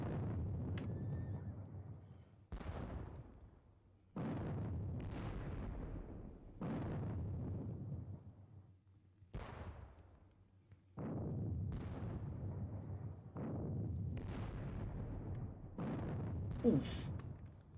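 Artillery in a Napoleonic wargame, Ney at the Katzbach, fires in about eight separate heavy booms spaced a couple of seconds apart, each with a long rumbling decay, with horse sounds in the mix.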